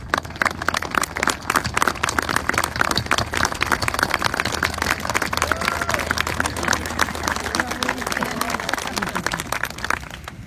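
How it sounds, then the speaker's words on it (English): An audience applauds restoration staff at a ceremony for a retired F-4 jet restoration in Victorville, with dense, steady clapping for the full length and voices mixed in. "All of our SCLA staff involved with the restoration, please stand so that we can actually applaud your efforts."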